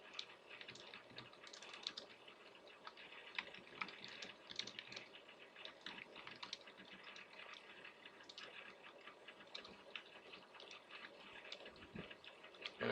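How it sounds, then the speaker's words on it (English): Steady, close clatter of typing on a computer keyboard, with quick irregular key clicks and brief pauses throughout, fairly quiet and without talk. "I'm just going to use the caret as the exponent indicator while I'm typing."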